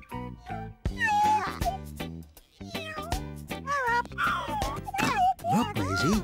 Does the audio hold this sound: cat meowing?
yes